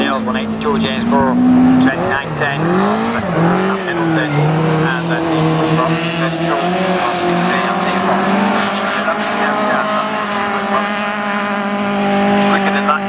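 Race cars roar around the start gate corner of a circuit at a memorial race meeting, engines droning and rising and falling in pitch continuously and loudly, with a commentator talking over the top throughout.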